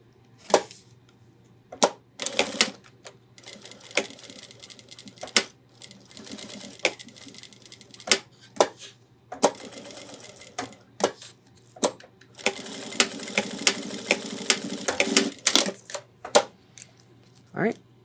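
Sewing machine stitching a nylon webbing loop onto a 30-liter ultralight hiking backpack, running in several short bursts and one longer run, with brief handling clicks between passes.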